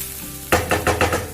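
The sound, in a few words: stir-frying cabbage with grated coconut in a pan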